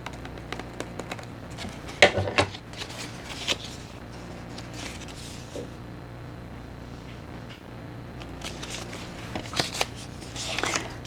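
Paper being trimmed with scissors for an envelope collage, giving soft, faint crisp snips and rustles in short bursts, loudest around two seconds and again toward the end.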